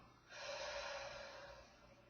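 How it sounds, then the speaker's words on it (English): A long, steady exhale during a guided third eye meditation, a soft breathy rush rising after a quiet start and slowly fading over about two seconds, close and alone with no talking. "exhale out."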